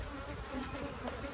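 Honeybees at an opened beehive being inspected, with their dense, continuous buzzing close by and fairly soft, with no voices.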